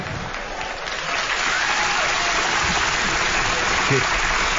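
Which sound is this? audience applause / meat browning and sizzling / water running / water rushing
audience applause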